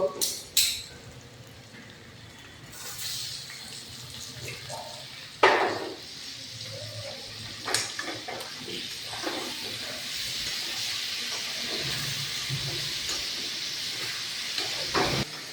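Tomatoes go into ginger, garlic and onion frying in oil for chicken kosha, giving a loud hiss that rises and then holds steady, with a few clattering knocks and scrapes at the start and toward the end.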